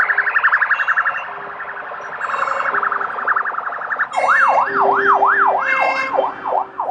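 Emergency sirens and a car alarm on a Budapest city street: a repeating electronic alarm tone gives way to loud, swooping wail sirens that rise and fall steadily, close and dominant over the traffic din.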